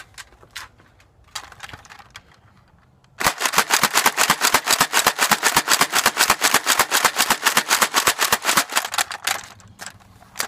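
A Dart Zone Powerbolt toy blaster fires foam Super darts in a fast, even burst of sharp, loud snaps, around thirty shots in quick succession, after a few scattered clicks and handling noises.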